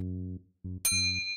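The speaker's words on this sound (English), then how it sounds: "The bell in the middle makes this sound." A bell strikes once with a bright, clear ding whose high overtones ring on and slowly fade, coming after a few softer, lower tones.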